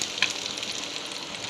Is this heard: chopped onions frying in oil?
yes